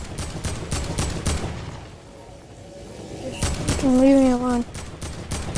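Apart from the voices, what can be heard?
gunfire in a video game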